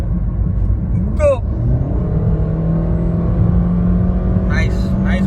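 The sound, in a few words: Maruti Alto car engine revving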